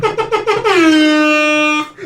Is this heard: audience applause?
no